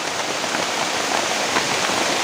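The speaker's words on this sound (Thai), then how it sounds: "ฝนตกแบบนี้นะครับ" Heavy rain falling in a forest, a dense, even hiss of drops pattering on leaves and ground that stays constant and close throughout.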